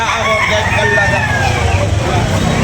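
Roosters crow and hens cluck among caged birds at a morning chicken market in Carbon, Cebu, amid crowd chatter and passing traffic; people talk throughout.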